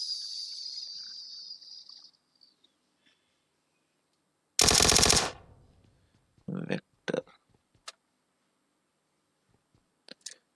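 SKS rifle fire in the battle-royale game PUBG: one loud, sharp burst of gunfire cracks out mid-clip, followed by a few shorter clipped reports and clicks, with a faint high whine beforehand and quiet gaps between.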